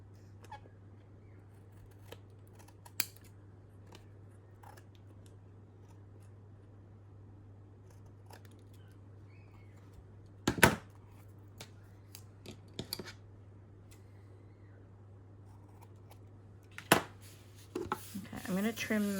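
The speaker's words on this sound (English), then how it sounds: "So I'm just going to trim that." Scissors trim a strip of paper for a December Daily scrapbook page, giving a few sharp, close snips and faint rustling against a quiet room hum.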